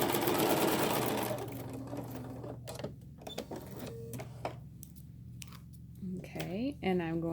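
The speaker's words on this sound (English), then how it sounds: "I'm going to sew a 1/4 inch right down the edge of that tree trunk." Sewing machine stitching a quarter-inch seam along the tree-trunk edge of a quilt block, running steadily for about two seconds, then stopping, followed by quieter clicks, handling and brief speech.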